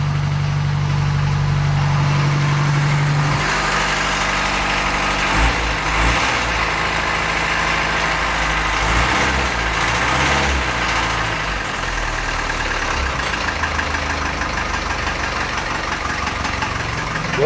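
Land Rover 2.25 diesel engine idling after a month sitting, a steady close-up rumble with a rhythmic knock that runs on alone; an early starter or revving tone drops away after a few seconds.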